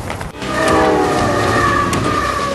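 The T-27 passenger train from Beijing to Lhasa crosses the high Tibetan Plateau, producing a loud, continuous rumble of rolling carriages with sustained horn-like tones over it.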